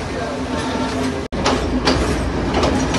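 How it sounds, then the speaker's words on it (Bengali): Train noise from a Sri Lankan coastal train running beside the sea near Colombo, recorded from inside: steady broadband rumble and rattle with faint clicks and a brief dropout, with some voice in the background. "এই যে সাগর পাশ ধরে ট্রেন যাচ্ছে"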